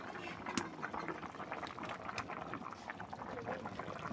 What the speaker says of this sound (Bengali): কত সুন্দর টক টক করে ফুটতেছে দেখো, টকবক করে